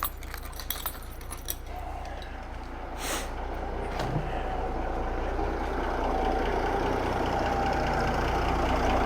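A Freightliner FLD Twelve truck engine idles with a steady low rumble that holds throughout, while a few light metallic clinks and taps sound near the start.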